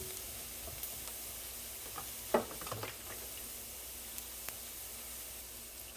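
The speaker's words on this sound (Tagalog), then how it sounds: "Unahin kong iprito yung dried na alamang. Hanggang magiging crunchy." Dried alamang, a shrimp paste, frying in oil until crunchy: a soft, steady sizzle with a few small pops and one louder crackle, close and low in level, with no voices.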